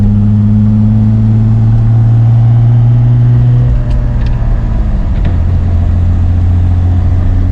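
A car engine runs steadily while driving, with a strong low drone that shifts in pitch partway through as the speed changes, loud and close throughout with no talking.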